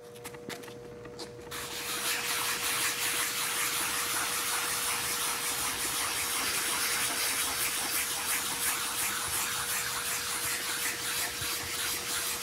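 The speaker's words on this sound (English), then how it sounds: "I'm simply going to wrap the wet dry sandpaper around this and use it as a sanding block." Wet-dry sandpaper wrapped around a sanding block, rubbed back and forth with a little water over a sealer-coated surface, a steady close wet scrubbing hiss that starts after a quiet second and continues without talk.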